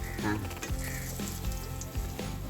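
Potato slices (kapa) fry in a home pan, giving a steady, close crackling sizzle that runs throughout at an even level.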